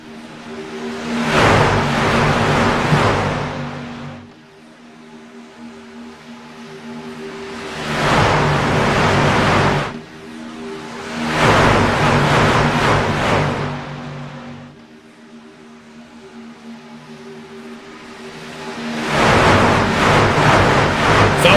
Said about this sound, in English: You're listening to the roar of the Nexus Motor City Truck Series Wednesday night race